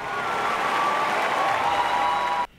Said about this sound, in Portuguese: o salto arrancou aplausos da torcida